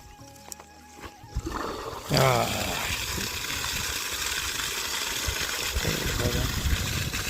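After a sputtering start, a tubewell pump engine roars into a steady, noisy run with water gushing continuously at low pressure, and a voice speaks briefly beneath it.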